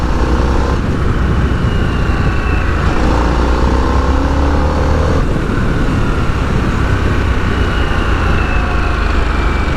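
A 2021 Harley-Davidson Sportster S ridden on the road, its engine drone buried in loud, constant rushing wind noise, with slight shifts in pitch as the rider changes speed.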